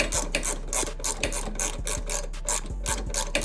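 A ratchet turning T40 bolts out of a Harley handlebar riser, with a quick, steady run of close mechanical clicks repeating in an even rhythm, loud and alone.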